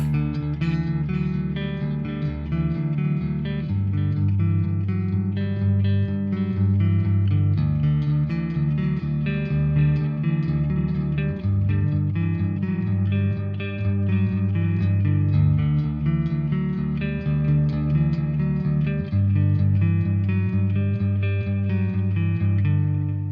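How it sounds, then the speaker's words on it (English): Electric guitar through a Tank-G Playwell plays sustained chords and notes with repeating delay echoes trailing behind, steady and full throughout, no talking. "Here's what the delays sound like."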